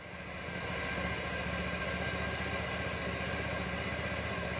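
A scooter-type motorbike engine settles into a steady idle just after starting, a continuous close, even rumble with a low vibrating hum and no voices over it.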